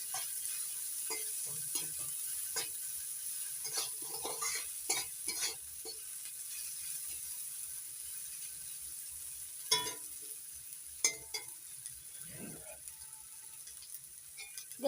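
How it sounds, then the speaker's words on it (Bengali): Salted onions fry softly in a pan while a spatula scrapes and knocks against it in scattered bursts, with faint voices now and then. "নাড়াচাড়া করে মিশিয়ে নিচ্ছি।"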